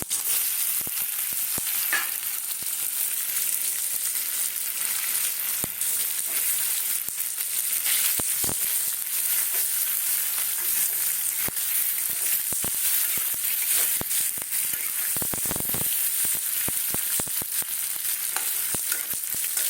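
Potatoes going into a pan of dry-fried curry, frying with a loud, continuous close sizzle and occasional scrapes and clinks of stirring throughout, no one talking.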